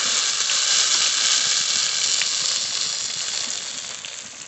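Ground spice pastes of coriander, cumin, dried red chili, garlic, green chili, onion and tomato hit hot oil for a mutton curry and give off a loud, steady hiss. The sizzle fades slightly toward the end.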